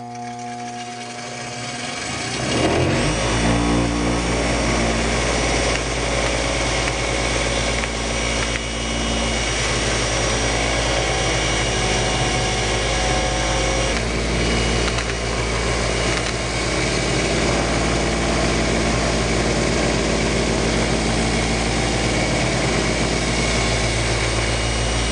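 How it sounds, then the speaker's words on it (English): Cordless drill spinning BMW E46 M54 engine valve stems against a bench brass wire wheel, a loud continuous steady whir and grind that runs close up for the whole stretch with no talking. "I'm gonna chuck them in my drill and spin them while I'm actually cleaning them up on my brass"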